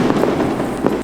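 Explosions in the video game Minecraft: a dense, crackling blast noise with a few sharper bursts, loud and continuous for about a second, with no talking.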